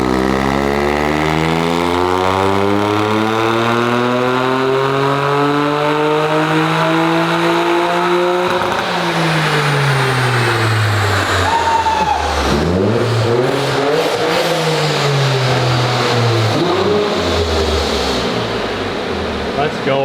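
Toyota GR Corolla fitted with a downpipe, engine revving hard through rising gear pulls with sharp shift breaks, loud and close throughout.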